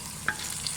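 Tomato, garlic, ginger, onion and green chili frying for baingan bhurta, a soft steady sizzle with one brief stir knock, close and faint.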